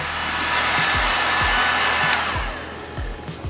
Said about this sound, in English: feel free to use a heat gun. I have one right here, and I'll probably be using it